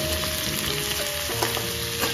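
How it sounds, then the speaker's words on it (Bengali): Chilli and turmeric masala frying in oil with cauliflower makes a dense, continuous sizzle, with faint stirring scrapes and a thin steady tone running underneath. "দিয়ে মশলাটাকে আবার নাড়ব,"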